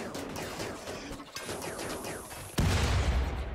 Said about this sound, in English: And then the shooting happens.